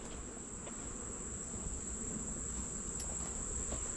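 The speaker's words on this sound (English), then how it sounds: "they have a nice gathering of bees on the front porch" Honey bees gathered on the front porch of a beehive at a North Carolina farm, a continuous dense buzzing drone with a steady high whine, close and even throughout, no voices.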